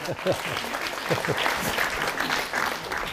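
A lecture audience breaks into lively applause, with dense clapping lasting the full three seconds. Voices can be heard talking and reacting over the clapping.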